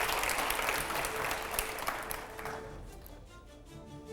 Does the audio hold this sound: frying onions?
no